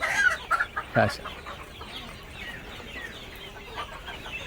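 Free-range village hens clucking at night while perched up on a wooden roost, a few close clucks in the first second, then soft low rustling as someone talks over them.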